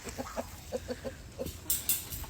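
Backyard flock of chickens, one of them a rooster, giving a series of short clucks in a quick uneven rhythm, close by and moderately loud, followed by a couple of sharper bursts near the end.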